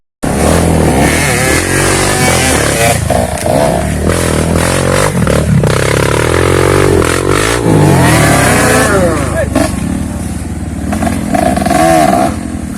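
A Honda CRF dirt bike rides along a rough trail, its engine revving and accelerating loudly up close with rattles and scrapes over uneven ground, sustained throughout.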